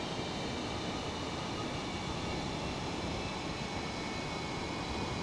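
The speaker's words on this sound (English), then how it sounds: "Let's slow ourselves down using the speed brake." Speed brake deploying on a Eurofighter Typhoon in a flight simulator, heard as a constant loud jet engine roar with broadband rushing air, steady and unbroken with no talk.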